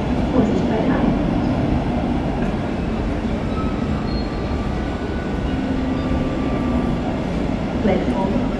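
An ICE train pulls into a station platform with a steady, heavy rumble of rolling wheels and carriages that holds for the whole stretch, while voices carry faintly over the station noise.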